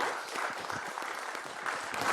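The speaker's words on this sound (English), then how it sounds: "let's have a round of applause" A conference audience gives a round of applause, soft and fairly distant steady clapping from many hands that holds at an even level.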